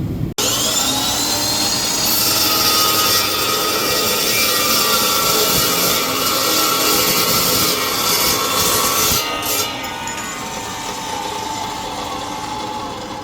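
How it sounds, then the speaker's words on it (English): A power saw, on a project to finish a Peterbilt truck, runs loud and steady at full speed while cutting metal, a continuous high whine with a harsh, dense grinding roar that eases off near the end. "Key to making these blades last on this saw is to get this thing spinning up to speed before you engage in your metal."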